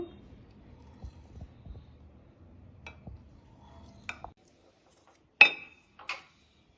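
Knife slicing through a set blueberry agar agar milk pudding, giving a few soft taps, light clinks and a brief scraping cut against a dish, close and quiet.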